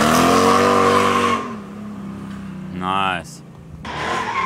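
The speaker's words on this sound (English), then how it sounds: "Time for some drifting." A V8-swapped Miata drifting on night mountain and street roads roars loudly, its engine revving hard while the tires squeal in short bursts; one person briefly speaks.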